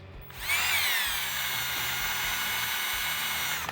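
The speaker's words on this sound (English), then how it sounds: "What I do is I go one way for about 5 seconds, then I'll switch directions on my drill" A power drill spins a degasser wand through wine, a steady high whine that starts after a brief quiet moment and holds close and loud without pause.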